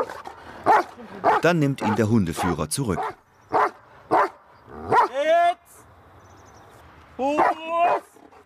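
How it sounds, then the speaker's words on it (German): A Doberman barks in repeated loud bursts while cornering a hidden helper during protection dog training, with a voice talking between the barks. "Ist er in seinem Versteck ausgemacht, heißt die erste Übung Stellen und Verbellen, was der Hund leidenschaftlich tut."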